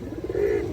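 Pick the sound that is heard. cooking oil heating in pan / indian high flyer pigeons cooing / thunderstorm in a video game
indian high flyer pigeons cooing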